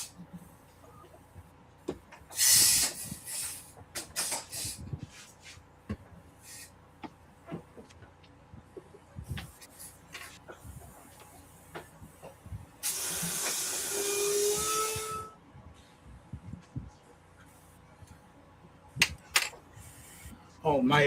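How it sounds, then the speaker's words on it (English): An airbrush fed by an air compressor set to 20 psi gives off bursts of hiss, one short and one longer sustained spray, against a quiet background with faint handling noises and no speech. "my air compressor is at 20 psi"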